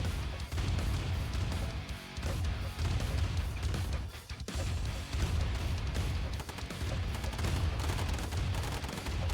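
Continuous gunfire and grenade blasts from minigunners and grenadiers in the real-time strategy game Command and Conquer: Tiberian Dawn, dense rattling fire and crashing explosions running without a break, no voices.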